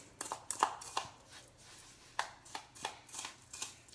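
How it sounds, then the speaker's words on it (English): Homemade lemon sugar scrub with lavender oil being mixed by hand, giving a series of gritty, scraping strokes in an uneven rhythm, close and fairly quiet, with no voices. "And mix that up."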